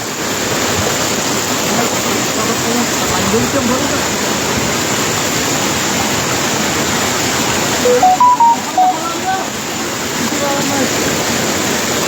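Floodwater pours at great speed through a breach in a canal at Fatikchhari, Chattogram, a loud continuous close-up roar throughout, with a few faint tonal beeps partway through.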